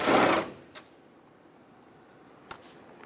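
Removing old hood strut ball studs on a 2000-2006 Toyota Tundra with a 12mm socket: a loud burst of ratcheting clicks at first, then near silence with a faint tap and one sharp click later.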